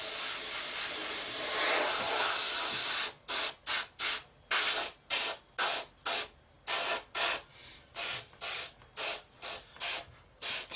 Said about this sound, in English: we're just going to lightly airbrush a coat of this right the way over